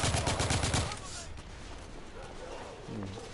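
Gunfire in the video game The Order 1886: a fast rattling burst of shots opens loudly, then fades into quieter scattered battle noise while voices talk.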